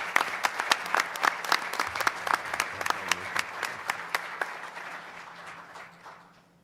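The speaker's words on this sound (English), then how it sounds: "Give her a big round of applause as well." An audience at a school board meeting applauds a kindergarten teacher honoured as Educator of the Month, with sustained, lively clapping that thins out and fades away at the end.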